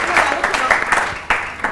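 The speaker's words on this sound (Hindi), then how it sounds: "अच्छा फलक के लिए बहुत सारी तालियां।" Studio audience applauding on a Pakistani TV morning show, a short burst of clapping heard alongside a host's voice.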